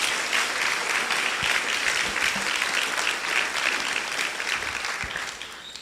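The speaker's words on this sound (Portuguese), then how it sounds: "Pode aplaudir o Senhor se você crê nisso." Church congregation applauding during a Portuguese-language sermon, a steady, dense wash of many hands clapping that holds for several seconds and fades slightly at the end.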